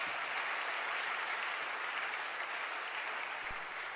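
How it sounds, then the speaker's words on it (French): A church congregation applauding together, with steady, dense clapping that holds at an even level throughout, sounding broad and somewhat distant, with no voices above it. "Acclamons Jésus-Christ."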